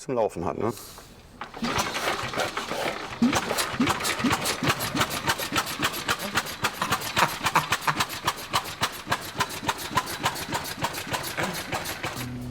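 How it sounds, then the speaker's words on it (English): The engine of an 1894 Benz Victoria car chugs after a rough start. It settles into a loud, close, steady run of rapid mechanical pulses that continue throughout. "you need to fiddle around pretty long until the engine runs properly"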